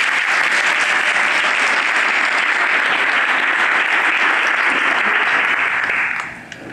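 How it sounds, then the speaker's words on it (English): A large audience claps steadily and loudly for several seconds at a city's State of the City address, the applause fading out near the end. "it's all right to clap for that."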